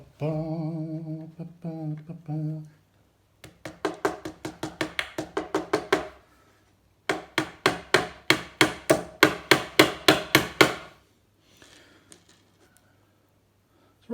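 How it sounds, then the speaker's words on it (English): A hammer works nails out of wood while salvaging a poster, delivered as two fast runs of rhythmic, evenly spaced sharp taps, each run about a dozen strikes long, with short tonal squeaks before them and quiet pauses between. "I do have the correct hammer"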